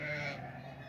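A single faint, short sheep bleat from a flock on a farm in cold weather, distant and quiet over a low steady hum.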